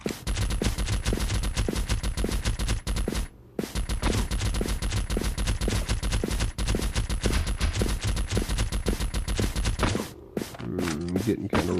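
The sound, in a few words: suppressed gunfire in zombie video game Dead Town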